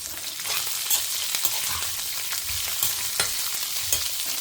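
Vegetables sautéing with salt in a hot pan for a home-cooked Tamil lunch give a loud, steady sizzle and crackle throughout, with occasional scrapes of stirring and no talk.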